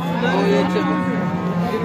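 Close, loud mooing from a cow at a crowded cattle market in Alephata, one sustained low call filling the short moment with faint background activity.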